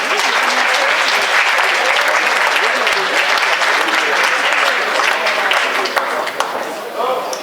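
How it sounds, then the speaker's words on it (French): Loud, dense audience applause at an orchestra concert in La Grand Combe, a continuous wash of many hands clapping that holds steady and thins slightly toward the end. "je vous demande d'applaudir Justine Mailleux."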